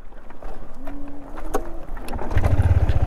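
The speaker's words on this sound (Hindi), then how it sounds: "मुझे गियर पे इसे स्टार्ट करना पड़ेगा" A motorbike with a dead battery is started in gear outdoors, with wind and rustling before the engine catches near the end and settles into a loud, low, pulsing putter.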